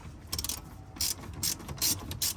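Hand ratchet working 8mm bolts on the undertray of a Honda Jazz, close, rapid clicking pawl bursts in several short runs with brief pauses between.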